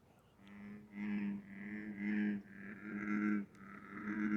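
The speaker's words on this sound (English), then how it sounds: "Bullfrog there, bullfrog there, bullfrog there." Bullfrogs call at night along a shoreline, a series of deep, resonant, drawn-out croaks repeating about once a second, moderately close and fairly quiet, with no voices over them.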